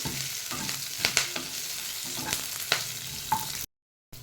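Ginger and green chilies fry in oil in a pan over low flame, giving a steady soft sizzle with a few clicks from stirring, then a sudden cut to silence near the end.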